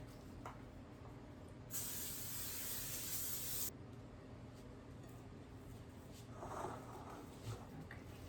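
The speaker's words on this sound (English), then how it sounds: "Spray this with olive oil spray." Olive oil cooking spray hisses into a Dutch oven in one steady burst of about two seconds, close and fairly loud, with quiet room sound before and after.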